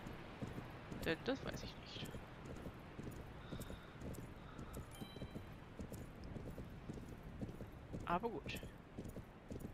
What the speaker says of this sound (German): Gut, wir reiten jetzt einfach mal hier lang.